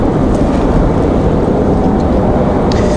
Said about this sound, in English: Another little CRJ gonna battle our winds.